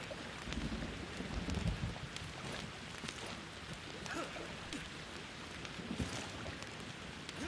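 Rain in the game Resident Evil 5: a continuous, even hiss of rainfall with scattered drops and a faint low rumble underneath, steady and fairly quiet throughout.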